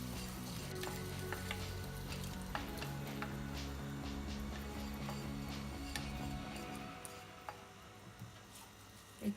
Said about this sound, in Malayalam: മിക്സ് ചെയ്ത് കൊടുക്കാം.